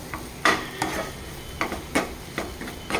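A spoon stirs a dish with chopped dates in a pan, making a series of soft scraping strokes over a light sizzle at an irregular, unhurried rhythm, close and without talking.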